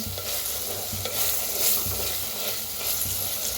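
Masala of onion, tomato and coriander roasting in a pan for a spicy village-chicken curry gives a steady close sizzle with repeated stirring scrapes, and no one speaks.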